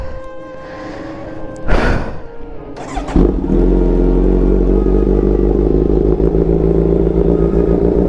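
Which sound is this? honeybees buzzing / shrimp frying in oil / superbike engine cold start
superbike engine cold start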